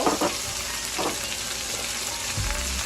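Fresh onions go into a hot pan for a beef chuck roast and crackle in a steady sizzle, with a few stirring scrapes and a low thump near the end, close and fairly quiet.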